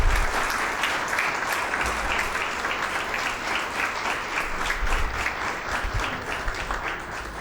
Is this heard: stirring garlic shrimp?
no